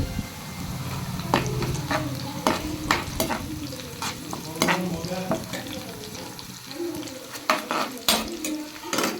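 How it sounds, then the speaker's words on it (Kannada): Crushed garlic and green chillies frying in a pan, with a busy crackling sizzle and repeated sharp scrapes and clinks of a spatula against the pan, close and fairly loud with no talking. "ಬೆಳ್ಳುಳ್ಳಿನ ಚಚ್ಕೊಂಡಿರೋದನ್ನ ಹಾಕ್ಕೊಂಡು ಸ್ವಲ್ಪ ಹಸಿ ಸ್ಮೆಲ್ ಹೋಗೋ ತನಕ ಫ್ರೈ ಮಾಡ್ಕೊಳ್ಬೇಕು ಇವಾಗ ಮೆಣಸಿನ್ಕಾಯಿ ಹಾಕ್ತಾಯಿದ್ದೀನಿ"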